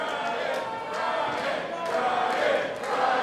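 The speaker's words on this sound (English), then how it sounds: "As you can hear the crowd in Norfolk." A capacity wrestling arena crowd in Norfolk during an opening match, a continuous roar of cheers and shouts at steady loudness with occasional sharp bangs from the ring, a commentator's voice running over it.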